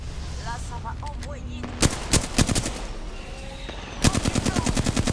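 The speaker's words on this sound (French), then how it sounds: "Je suis à peine arrivé, ça commence à rafale." Automatic weapons rattle in rapid bursts during an Apex Legends match: a few scattered shots first, then dense, loud volleys of fast repeated cracks in two main clusters.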